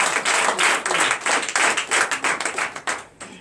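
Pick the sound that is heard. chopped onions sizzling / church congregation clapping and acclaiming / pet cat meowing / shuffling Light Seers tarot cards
church congregation clapping and acclaiming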